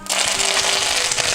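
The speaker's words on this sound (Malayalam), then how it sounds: "ഇനി നമുക്ക് ആ എണ്ണയിലേക്ക് 2 തണ്ട് കറിവേപ്പില ഇട്ട് കൊടുക്കാം" Two sprigs of curry leaves dropped into hot oil for Malabar-style chicken kondattam, giving a sudden loud, dense crackling sizzle that bursts in and holds steady for a moment, close up with no talk.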